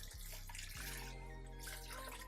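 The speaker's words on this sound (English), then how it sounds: "Now to that, you want to add some water." Water pouring from a tap into a cooking pot holding two pieces of smoked turkey for Southern collard greens, a steady close gush whose pitch rises as the pot fills, with no voices.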